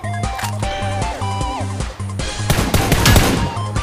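Rapid gunfire in the mobile battle-royale game PUBG: New State, loud bursts of shots over a pulsing in-game music beat, growing denser and heavier toward the end.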